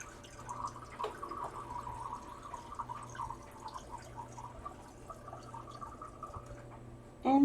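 Soft trickling and dripping of about half a cup of filtered water being poured, quiet and intermittent, ending with a louder splash near the close.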